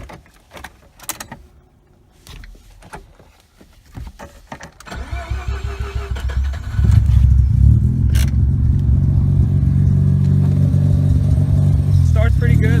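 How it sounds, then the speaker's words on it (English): Single-turbo Mazda RX-7 FD rotary engine turned over from hot, with a few clicks and handling noises first, then the cranking and a catch into a loud, steady, rumbling idle close by. "I'm gonna start it up real quick. See if this is a hot start."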